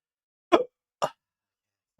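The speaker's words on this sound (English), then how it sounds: "Hiccups." Three short, abrupt hiccups, two close together and then a third after a pause, clear and near in an otherwise silent room.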